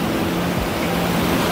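Sea waves wash onto Tondaligan beach in Dagupan, a steady broad rushing surf heard alone and up close throughout a short stretch.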